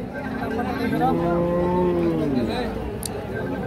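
A young, tall Holstein Friesian dairy cow at a cattle market gives a long, loud moo with a falling pitch that lasts a couple of seconds, heard close up against steady crowd murmur.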